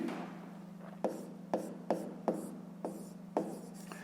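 A pen writes numbers on paper during a fifth-grade math exercise, giving six short, crisp scratching strokes at uneven intervals over a steady low hum.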